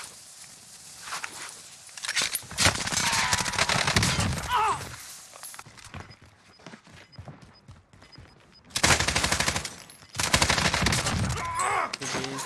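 Bursts of light machine gun fire in a Warzone match, several sharp volleys of automatic shots separated by quieter stretches with footsteps and movement, loud and close.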